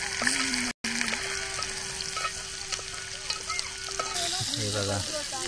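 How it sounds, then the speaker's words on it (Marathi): Spicy chicken tawa fry sizzling steadily on a hot griddle over a wood-fired chulha for an Agri Koli meal, a dense continuous hiss with a brief break early on and a few short tonal sounds near the end. "झणझणीत चिकन तवा फ्राय होते."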